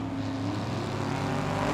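Drag race cars, a Camaro and a Corvette Roadster, roar down the strip at a dragway, a continuous loud engine drone heard from trackside that swells slightly toward the end.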